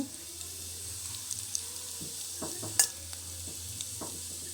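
Mustard seeds and cumin go into about four spoonfuls of hot oil in a pan, giving a faint steady sizzle broken by scattered pops and light stirring scrapes.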